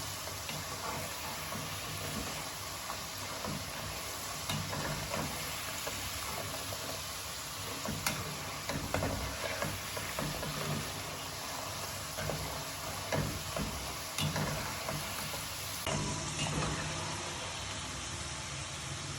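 French fries frying in hot oil until golden, a steady broadband sizzle that stays fairly quiet and even throughout with small bubbling crackles, no talking.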